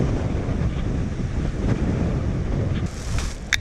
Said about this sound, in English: All the snow blowing up the mountain.